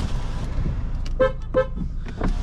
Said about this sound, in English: That's a good loud horn.